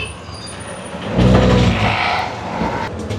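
Steady road traffic rumbles close by on a street in Colombo, Sri Lanka, swelling as a heavy vehicle passes about a third of the way through, then settling into a continuous engine drone.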